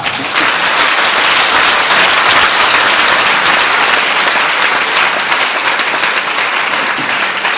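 Dense, loud applause from a crowded indoor meeting audience fills the whole stretch without pause, a continuous wash of many hands clapping at once.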